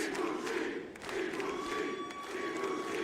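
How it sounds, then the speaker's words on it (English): A jam-packed, standing-room crowd at a wrestling event gives a loud, sustained ovation. Cheering and shouting swell and hold for the whole stretch, with one brief dip in the middle. "A great ovation from the fans in attendance."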